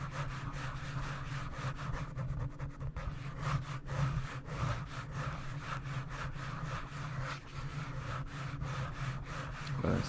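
Close, steady scratching and rubbing against a fuzzy, textured surface for ASMR, with repeated strokes in an uneven rhythm that continues throughout the clip, with no talking.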